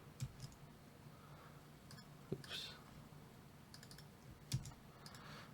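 Sparse, soft keystrokes and clicks on a computer keyboard sound close by, spread across the moment in a quiet room with faint background murmur.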